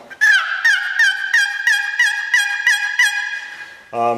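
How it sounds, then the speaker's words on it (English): A Cabela's turkey box call, a loud call, scrapes out a rapid series of loud, raspy yelps in a steady rhythm, about ten notes, ending with a lower clucking sound. "This is another one of our box calls."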